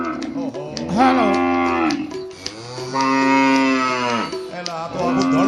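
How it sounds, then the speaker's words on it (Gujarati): A herd of cattle at a cow shelter lowing together, with long, loud overlapping moos in two drawn-out bursts, close by and dominating the scene. "આ તો આખું ધણ બોલ્યું"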